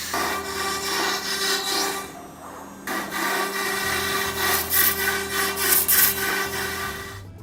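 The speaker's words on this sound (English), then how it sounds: "Our panel saw is used to cut sheet goods down in size by making either vertical or horizontal cuts" A panel saw in a workshop cuts wooden sheet goods with a loud, continuous whining roar that drops out briefly, then resumes with rasping cutting noise over a steady motor hum.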